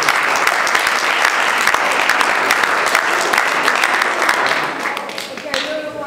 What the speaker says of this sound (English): she deserves a big round of applause from everybody